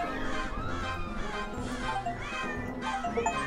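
Repeated meowing cat sounds from Hidden Cats in Spooky Town, several drawn-out wavering mews in quick succession, clear and close over background game music.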